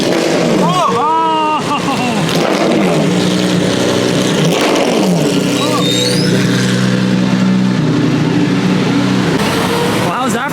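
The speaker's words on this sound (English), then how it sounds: "The MC12 Corsa on the road, and I had no idea, but it's got a removable top." A Maserati MC12 Corsa race car drives on a public road during Car Week, its engine note rising and shifting under a crowd's loud chatter and excited voices throughout.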